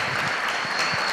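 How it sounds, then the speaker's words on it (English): Thick, steady applause from a conference audience at a summit stage, a continuous wash of many hands clapping with no break. "Big applause, please."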